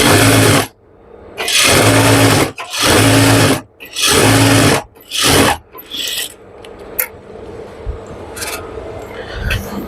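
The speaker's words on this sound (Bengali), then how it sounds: "এখানে একটা চাপ সেলাই বসিয়ে দেব তাহলে আমাদের সেলাইটা বসে যাবে একবারে" A sewing machine runs in five loud bursts as it stitches a pajama seam, each burst a steady buzzing whir separated by short pauses, followed by quieter handling and light rustling.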